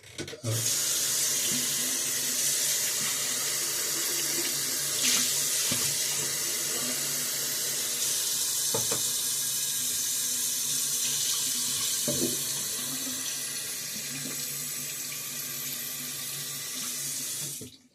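Tap water pours steadily into a bathroom sink, a continuous close hiss and splash that holds for the whole stretch, with a few faint knocks under the flow and no talking.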